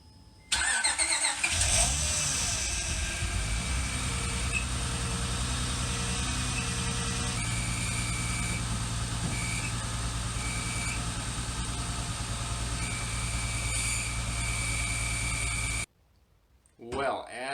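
An Acura TL with a clutch fault starts and idles with a steady engine drone and a persistent high whining hum from a worn throwout bearing, close and loud for about fifteen seconds before cutting off.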